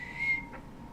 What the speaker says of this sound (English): I'm always blowing whistles at you.